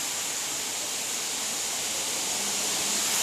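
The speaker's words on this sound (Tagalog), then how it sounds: "Ito yung Norizal Falls" Norizal Falls, a waterfall in Barangay Dumaraw, Rojas, Palawan, gives a steady broadband rush of falling water, constant and fairly loud throughout with no voices.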